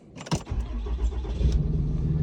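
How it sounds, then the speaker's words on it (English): Diesel dually truck engine idling steadily while warming up, a loud, close, continuous low rumble that settles in after a brief start-up burst. "once its engines are warmed up"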